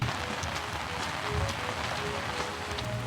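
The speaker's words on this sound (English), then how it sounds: "you get reminded that we are in rainy season" Rain falls in St. Lucia's rainy season, a soft, steady patter of drops on surfaces with a few sharper close splashes, fairly quiet and constant.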